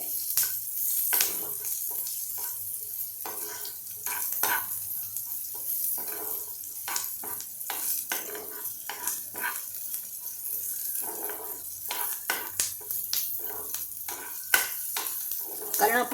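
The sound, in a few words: onions frying and being stirred in pan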